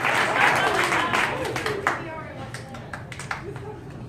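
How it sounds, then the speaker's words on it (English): Audience clapping and cheering on cue, a dense burst of applause with raised voices that thins over a few seconds, mixed with crowd chatter. "I am going to see how good an applause you can do"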